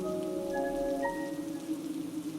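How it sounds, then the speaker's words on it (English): Steady heavy rain pours continuously in an animated story scene, a dense, even wash of sound with faint tonal background music running underneath. "It's raining quite a lot."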